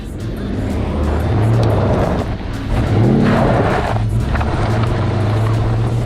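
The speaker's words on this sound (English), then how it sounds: "Driving the Super Cobra Jet" A Ford Super Cobra Jet muscle car drives on, its loud, steady engine drone rising and falling slightly with a brief dip midway, close and continuous with no talk.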